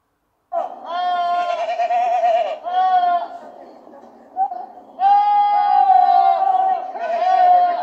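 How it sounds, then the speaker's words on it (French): Several goats bleat in drawn-out, wavering cries, in overlapping bursts with short pauses between, close and fairly loud. "On va écouter ce que les chèvres ont à nous dire."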